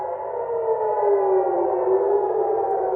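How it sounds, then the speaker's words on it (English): Civil defense air raid siren wailing over Haifa, Israel, warning of an Iranian missile; a steady tone heard from a distance, rising slightly in pitch, with no voices. "the sound of sirens is now familiar over many cities in Israel"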